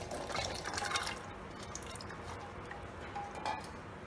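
Water poured from a bowl into a pressure cooker of soaked chickpeas, a faint, steady liquid splashing with small drips, heard alone without talk.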